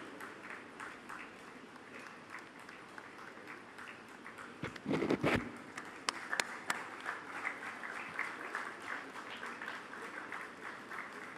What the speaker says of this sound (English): Keep the applause going, please.